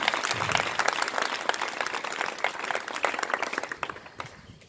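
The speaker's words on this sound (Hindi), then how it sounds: "जोरदार तालियां बजाइए बच्ची को" A school morning assembly at GSSS Lohari Ragho, Hisar, claps for a girl who just recited a poem, many hands beating in a fairly close, lively burst that gradually thins out.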